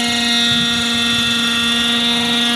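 A Hirobo Lama radio-controlled model helicopter flies nearby with a loud, continuous engine whine and steady rotor drone that holds even and unbroken throughout, with no voices.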